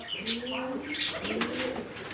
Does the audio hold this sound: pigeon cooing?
yes